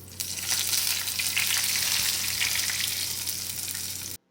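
Loud, steady sizzling of cumin seeds tempering in hot oil for raita, crackling close up for a few seconds before cutting off abruptly.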